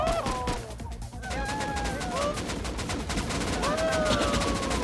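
Dense rapid gunfire crackles continuously, with whistling tones and shouting voices mixed into the loud, chaotic battle noise of an aerial fight in the game Rust.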